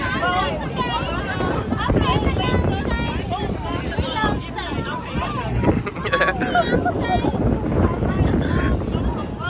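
Wind buffets the microphone aboard a boat off Orange Beach, Alabama, while people talk and chatter loudly over the rushing air and engine noise.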